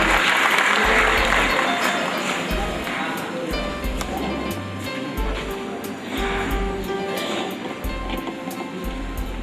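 An audience at a live evening music concert claps steadily and densely throughout, a broad wash of hands with voices mixed in beneath it.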